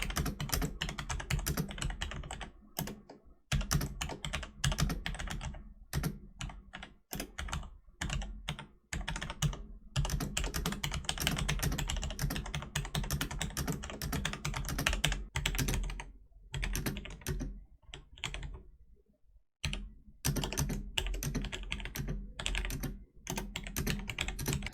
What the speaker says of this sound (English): I'll just leave a short clip here of how the switches sound.